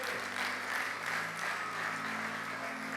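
A church congregation gives the Lord a loud round of applause, steady dense clapping filling the room for the full stretch, with a low sustained hum underneath.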